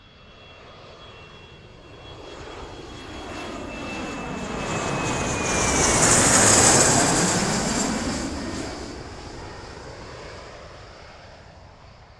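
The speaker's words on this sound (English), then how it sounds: "Flight 527 ready for departure." An airplane departs in a sound effect. A jet engine roar swells from a distant rumble to a loud, whining peak near the middle, then fades away again, with no voices.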